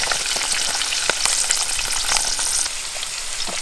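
About 100 grams of peeled garlic fries in hot oil with popped mustard seeds for a fish pickle, giving a loud, steady sizzle with crackles and stirring scrapes, close by and without any voices.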